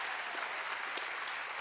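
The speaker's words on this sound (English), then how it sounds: "Give your parents a big round of applause." A comedy show audience breaks into steady, dense applause, a continuous wash of clapping filling the room at full volume for the whole moment without any speech.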